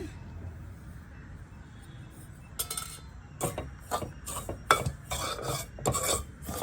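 Rava roasted in a pan for a sweet snack, with a low hum at first and then a run of close, irregular scraping strokes and faint clinks that grow busier toward the end.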